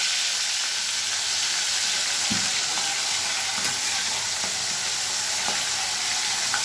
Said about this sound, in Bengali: কড়াইতে মাছ দিয়ে দিচ্ছি।